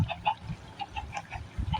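Soft, fairly faint Minecraft chicken clucks come in a scattered series of short calls over a low rumbling background.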